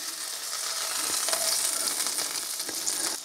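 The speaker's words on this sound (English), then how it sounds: "now we're going to place this into the frying pan for 4 minutes on each side" Chicken breast sizzling steadily in a hot frying pan, a constant crackling hiss with a few soft scrapes, close by.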